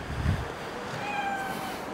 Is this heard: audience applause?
no